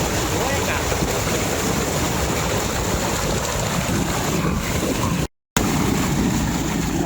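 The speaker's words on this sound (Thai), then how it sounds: "น้ำไหลเข้าวังอย่างบ้าคลั่งสวยงามแล้ว" Loud, continuous roar of floodwater rushing into a river whirlpool, broad and steady, with wind buffeting the microphone and a brief dropout near the end.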